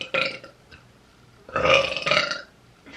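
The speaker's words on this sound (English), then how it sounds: "I'm so sorry to everyone who thinks burping is disgusting, but that's what happens." Two loud, close burps from a woman, the first short and the second longer and drawn out, separated by a quiet pause.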